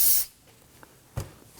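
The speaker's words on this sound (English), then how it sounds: "give it a quick spray with some solvent" A short burst of hissing spray from an aerosol solvent can onto a Toyota Camry rear brake caliper, then quiet with a small clunk.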